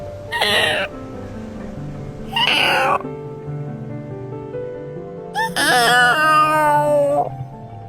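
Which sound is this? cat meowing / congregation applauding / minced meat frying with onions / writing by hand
cat meowing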